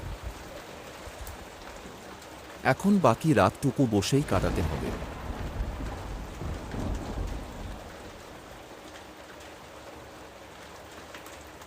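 Steady rain pours down with a low thunder rumble, and a voice speaks briefly partway through.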